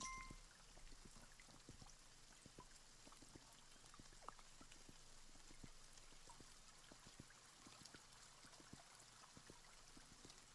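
Steady soft rain in the video game Kingdom Two Crowns, a faint constant wash scattered with light drop ticks and a trickling, stream-like texture, quiet and continuous throughout without voices.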